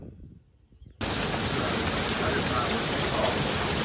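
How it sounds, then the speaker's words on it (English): Heavy monsoon rain pours down outdoors, a dense, loud, steady roar that begins abruptly after a quiet moment and continues unbroken. "we had one day of some of the heaviest rain I've ever seen"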